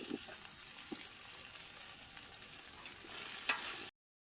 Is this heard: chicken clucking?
no